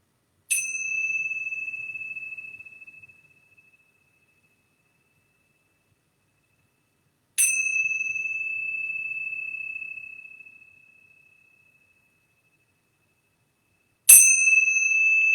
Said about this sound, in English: I'm going to ring these bells